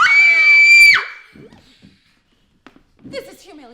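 A woman lets out a loud, sustained, high-pitched scream of fright at close range, holding for about a second before cutting off, followed by quiet shuffling and a few brief voice sounds.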